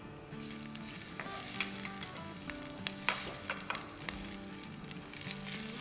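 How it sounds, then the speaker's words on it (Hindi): Green chili, ginger and garlic paste sizzles steadily in a hot pan as it is sautéed, with soft scraping and stirring clicks over the frying hiss, fairly quiet and close. "तो बस इसे हम 2 मिनट सौटे करेंगे।"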